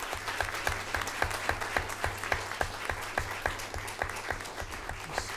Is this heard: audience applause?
yes